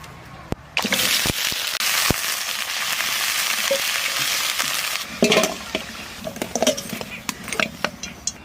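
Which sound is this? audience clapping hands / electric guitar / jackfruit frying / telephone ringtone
jackfruit frying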